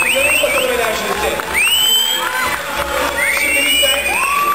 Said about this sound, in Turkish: Alkış, alkış, alkış, alkış, daha çok, daha çok.